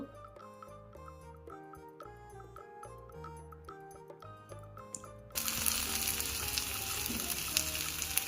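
Butter fish pieces fry in oil on a tawa after music fades, a steady close sizzle with crackling spatter filling the last few seconds.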